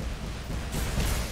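A lightning spell cast in the video game Skyrim gives a steady, close crackling rumble like a thunderstorm, growing brighter and harsher partway through.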